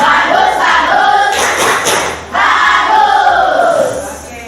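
A school class claps and chants the 'tepuk bagus' praise routine in unison, loud rhythmic group voices with a burst of claps in the middle.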